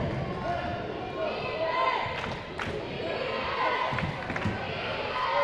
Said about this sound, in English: You hear the Skyview crowd chanting defense over on our side?